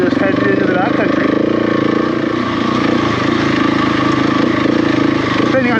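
A KTM 690 motorcycle heading into the backcountry: a loud, steady engine drone with constant intake and wind roar, holding an even pitch throughout with slight surges.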